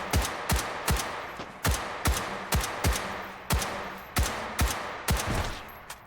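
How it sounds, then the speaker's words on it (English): Rifle gunfire in a competitive video game match, a long-range rifle firing about a dozen sharp, evenly spaced shots in a steady rhythm, each with a short decaying tail, loud and close with no talk. "Take it out from long range with the rifle."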